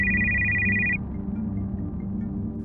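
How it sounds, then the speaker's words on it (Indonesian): A mobile phone rings in a film scene with a steady, loud electronic tone that lasts about a second and then cuts off, leaving a low background hum. "yang ia dapatkan hanya suara dering handphone Xavier yang berbunyi tak"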